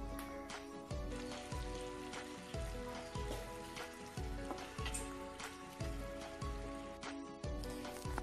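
Beef biriyani masala with coriander and mint leaves bubbling in a pan, a steady crackling simmer with rhythmic thick bubbles popping close up, continuous throughout with no voices.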